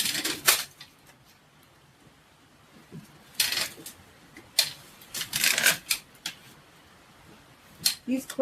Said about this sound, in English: So first I have to start with my clippers and trimming off the individual branches.